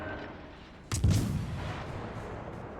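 A warship's heavy guns boom once, loud and close, against the cruiser St. Louis in World of Warships: Legends, the blast trailing off into a low rumble over steady background noise.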